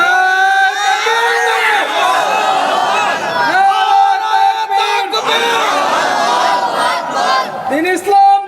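Large gathering at an Islamic religious sermon shouting a religious slogan in unison, repeated loud rhythmic chants of many voices with brief pauses, close and forceful.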